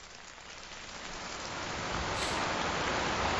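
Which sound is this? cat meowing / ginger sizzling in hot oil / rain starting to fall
rain starting to fall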